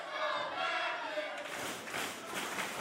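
A capacity arena crowd roars and cheers for wrestler Mike Matthews at a live wrestling event, a loud, sustained wash of voices that swells midway and keeps rumbling.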